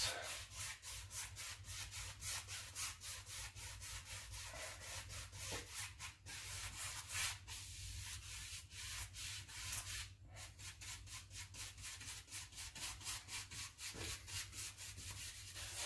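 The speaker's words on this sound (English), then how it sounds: "So those crisscross patterns really help to get that paint on that canvas." A paintbrush scrubs back and forth across canvas in crisscross strokes, making a soft, quick, rhythmic scratchy rubbing that repeats steadily and close by, with no talking.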